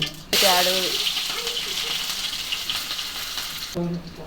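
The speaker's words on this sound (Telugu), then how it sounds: "ఆయిల్ పోసిండు, మంచి జీలకర్ర వేసాడు." Cumin seeds sizzle in hot oil at the start of a mushroom curry, a loud, steady crackling hiss that begins abruptly and holds for about three seconds while a person talks over it.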